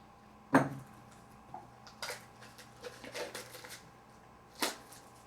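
Battletech Aces: Scouring Sands cards pulled from a pack, a sharp crinkle and snap of wrapper followed by scattered light papery shuffles and rustles, close and moderately quiet with no talking.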